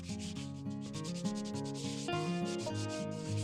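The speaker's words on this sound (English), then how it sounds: "You'll want to start off with sanding the parts to remove any contaminants or rust" Steady rubbing scrape of 180 grit emery cloth sanding metal Bronco jerry can holder parts to strip rust and contaminants, continuous and close with a slight back-and-forth rhythm.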